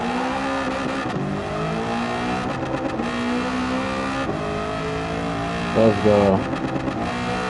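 Racing video game car engine roaring and revving continuously, with a short burst of exhaust backfire pops near the end; a voice speaks briefly over the engine.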